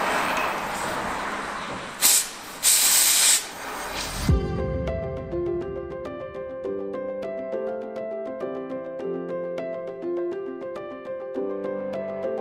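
A torch flame heats a differential part of a 2017 Ram during an AAM 11.5 and 9.25 gear swap, a loud roaring hiss that runs for about four seconds with brief surges, then stops.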